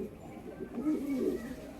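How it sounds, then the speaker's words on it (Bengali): Madras pigeons, high-quality flying birds kept for sale, give soft low cooing close by, a couple of murmured coos over a quiet background. "সব কিন্তু হাই কোয়ালিটি ম্যাড্রাস পায়রা"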